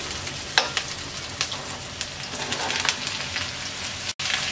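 Cubed papaya stir-fried with lightly browned onions in a hot pan sizzles steadily, with frequent sharp spatula scrapes and clacks over the crackling oil, close and busy, then a brief cut of silence near the end.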